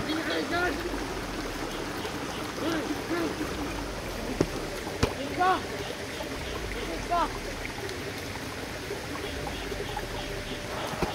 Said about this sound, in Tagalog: Ito na yung ilog na sinasabi sa akin na nagpasa ng link tol.